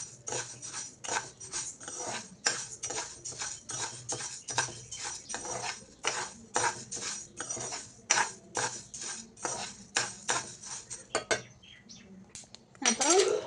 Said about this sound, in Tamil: உள்ள போட்டு நல்லா வறுத்து எடுத்துக்கலாம்.